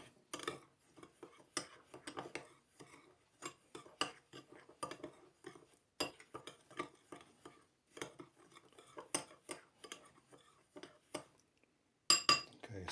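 A spoon mixing sticky chocolate cake mixture in a bowl makes repeated close clinks and scrapes in an uneven rhythm. The sounds are quiet between strokes and grow sharper and louder toward the end.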